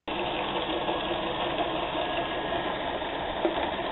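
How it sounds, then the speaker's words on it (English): A rock tumbler spins on a 150 watt motor from a hand mixer, giving a steady, loud whirring drone with a rattling rumble that starts abruptly and holds constant throughout. "Here we have the tumbler with a 150 watt motor from a hand mixer."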